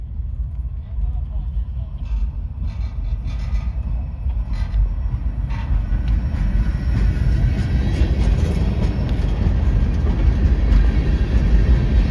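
A heavy CSX freight train rumbles slowly and continuously in reverse with low mechanical grinding, growing slightly louder over time as voices murmur in the background.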